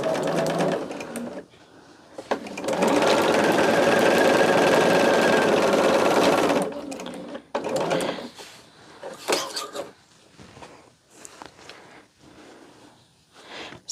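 A sewing machine stitches fabric in a steady, loud run of several seconds, then stops and gives way to shorter bursts of stitching mixed with handling noise.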